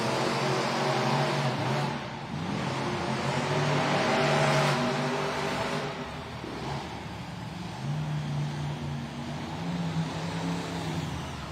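Monster trucks with roaring engines race head to head at a Monster Jam event in Savannah, Georgia, a loud sustained engine blare with revving surges over crowd and arena din.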